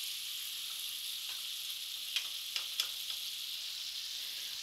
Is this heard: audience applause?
no